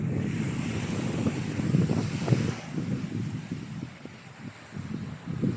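Strong sea waves roll in at Cristal Beach Resort, a washing surf mixed with gusty wind. It swells and ebbs in uneven surges close to the microphone.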